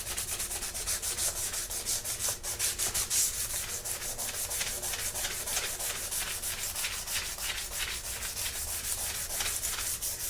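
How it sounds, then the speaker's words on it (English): Rhythmic scratchy strokes of sandpaper rubbing against a brass plate, fast back-and-forth passes repeating steadily and up close, with no talking. "once you get a good sanding with the first grit"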